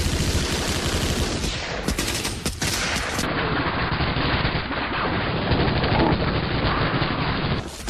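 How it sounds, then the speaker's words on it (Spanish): Sustained machine gun fire in the World War II shooter Medal of Honor Allied Assault during the D-Day landing, loud and continuous rapid bursts mixed with distant gunfire, with no voices. "No podemos avanzar con esas ametralladoras disparándonos."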